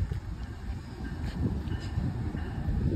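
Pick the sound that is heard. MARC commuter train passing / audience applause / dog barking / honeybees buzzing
MARC commuter train passing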